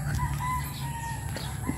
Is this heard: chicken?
yes